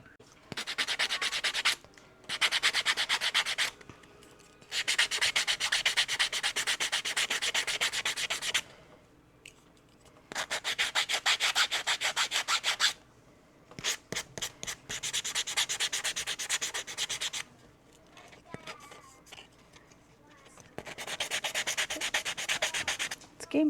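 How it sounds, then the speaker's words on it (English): Handheld foam sandpaper rubs over a 3D-printed figure in long bursts of steady, close scratchy friction separated by short pauses, with no talking. "So I got a couple different kinds of like handheld foam sandpaper, and we're going to try these out today."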